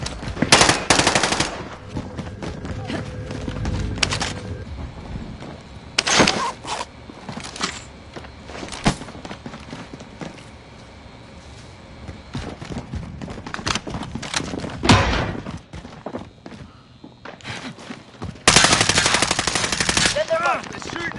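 Video game gunfire comes in several loud automatic bursts spread between quieter stretches, with game announcer voices and background action in between.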